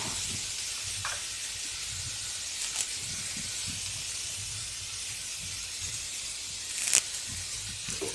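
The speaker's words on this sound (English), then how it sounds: "And I will saute it." Curry leaves and cut ladyfingers sauteing in hot oil, a steady close sizzling hiss throughout with a couple of faint clinks and no voices.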